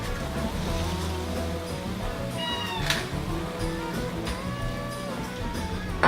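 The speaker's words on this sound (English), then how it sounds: "For those of you that can hear that whining in the background, that's my cat" A cat whines in the background of a home kitchen during cooking. Several drawn-out, rising meows come at intervals over low steady room noise.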